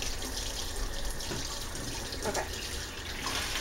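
Hot water runs steadily from a tap while a betta fish's bowl is being cleaned, a constant loud broadband rush with brief splashy fluctuations, and a voice says a single word.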